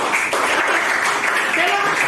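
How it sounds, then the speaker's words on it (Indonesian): Students applaud in a classroom during a maths lesson on number lines. The clapping is brisk and fairly loud, and a voice speaks over it near the end. "Tepuk tangan lagi."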